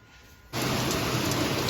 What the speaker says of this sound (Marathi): किती मस्त आणि जोरदार पाऊस येतोय